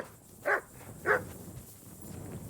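A dog in the video game Kingdom Come Deliverance 2 gives two short, sharp barks about half a second apart, fairly close, over quiet ambient background.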